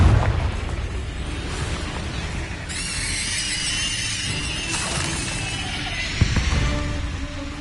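Blasting-spell explosion from the Hogwarts Legacy video game: a loud burst opens the clip, followed by a long sustained magical roar and shimmer, with a second thud near the end.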